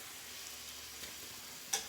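Chicken frying in a pan makes a soft, steady sizzle with faint crackles and a small tick near the end, low and alone without talk.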